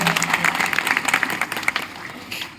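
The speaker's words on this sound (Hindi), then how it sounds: "भाई साहब एक बार तालियां बजाइए हमारी माताओं बहनों के लिए" Applause from a village audience at a Hindi comic poetry recital in Narsinghpur, honouring mothers and sisters; dense, fairly loud clapping fills the whole stretch, with a voice or crowd murmur mixed in.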